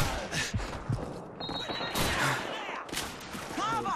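An MG42 machine gun fires in Call of Duty 2, laying down sustained bursts amid the clatter of a busy battlefield, with several sharp reports standing out over a constant rumble of combat.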